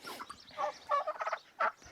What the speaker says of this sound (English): their little flock is working its way around